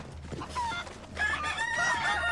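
Chickens in the video game Assassin's Creed Odyssey cluck and squawk close by, a loud run of overlapping calls that grows busier toward the end, with one call drawn out like a crow.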